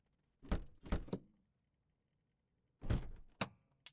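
Cockpit door latch and lever of a Just Flight PA38T Tomahawk light aircraft in Microsoft Flight Simulator give two pairs of close, sharp clunks and thuds, separated by quiet.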